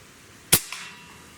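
An AEA Challenger Pro regulated PCP air rifle fires once with a sharp, close crack. A fainter metallic tick follows a moment later as the pellet strikes a distant can. There is no talking.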